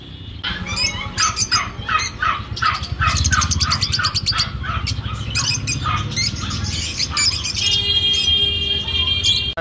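Lutino and rosy lovebirds in pet shop cages chirp in rapid, repeated bursts, loud and close, with overlapping shrill calls and a few longer squawks.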